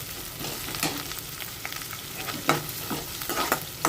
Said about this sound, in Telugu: ఇదిగోండి ఉల్లిపాయ వేగిపోయింది